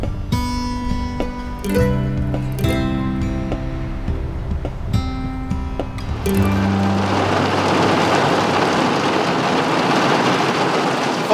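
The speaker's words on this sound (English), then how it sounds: "Right now though, gonna get out this rain" Heavy rain shower pouring down outdoors in the Wye Valley, a dense, loud, steady hiss that swells after a stretch of music and fills the rest of the clip.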